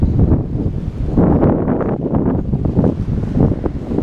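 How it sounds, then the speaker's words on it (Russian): Strong wind buffeting the microphone at a seaside hotel in Mombasa, Kenya, a loud continuous roar with gusty swells and no voices. "дует сильный ветер"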